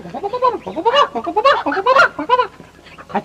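Chickens in a coop give loud, close, nasal clucks and squawks in quick, uneven bursts.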